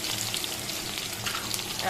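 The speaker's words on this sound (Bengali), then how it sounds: "আলু ও বেগুনটা ভালো করে আগে ভাজা ভাজা করে নেব" Potatoes and eggplant fry in oil with salt and turmeric for a hilsa curry, giving a steady, close sizzle with faint stirring and no clear talk.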